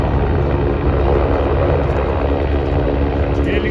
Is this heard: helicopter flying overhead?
yes